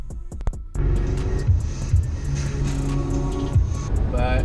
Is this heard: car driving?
yes